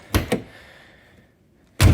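On a 1972 Saab 96 V4, two quick light knocks of the door latch come first, then after a quiet pause the door closes with a heavy, close thunk.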